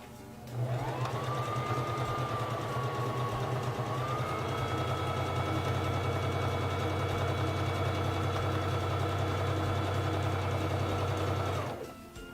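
A SINGER Fashion Mate 3333 free-arm sewing machine stitches fabric in one sustained run, a steady whirring motor drone with a faint rising whine that stops abruptly near the end.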